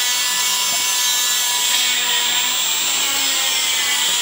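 A 2.5 inch hole saw cuts through a camper wall, a steady, close, rasping grind that holds at an even level for several seconds with no talking.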